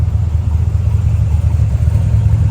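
A 1968 Chevrolet Corvette Convertible engine runs at a steady idle, its deep, even low rumble close and constant, with no voices.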